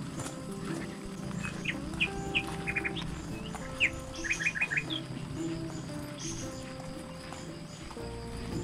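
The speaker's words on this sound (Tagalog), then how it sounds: "Ang ganda ng huni ng mga ibon" Birds chirping and singing in the Philippine countryside, with clusters of quick bright tweets and short trills at moderate distance over a steady low rumble of outdoor background noise.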